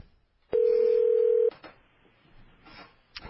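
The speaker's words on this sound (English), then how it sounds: "I just called your phone and it was sent to the voice message system" Telephone dialing tone placing a call, a single steady electronic tone held for about a second, loud and clear above a quiet background with faint noise after.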